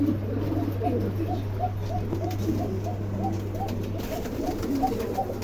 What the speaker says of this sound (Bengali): মোট 9 জোড়া কবুতর আছে, 9 জোড়া লাখ।